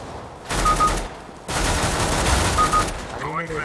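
Bursts of automatic gunfire in CS:GO, two loud sustained volleys separated by a brief pause, followed by a short tail of game effects.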